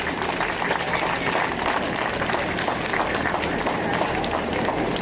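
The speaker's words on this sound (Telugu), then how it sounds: "అలాగే వేణు గారికి ఒకసారి క్లాప్స్ కొట్టాలి అందరూ" An audience at an Ugadi festival celebration applauds for Venu, a dense, continuous wash of clapping from many hands that stays loud and even throughout.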